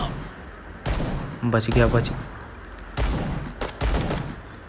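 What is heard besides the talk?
gunfire in the video game Bullet Echo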